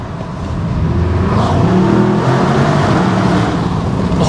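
A 2024 Mercedes-Benz S63 AMG E-Performance under acceleration in a tunnel, its engine and exhaust droning loudly from inside the cabin with a window open, rising in pitch and volume as the car pulls hard.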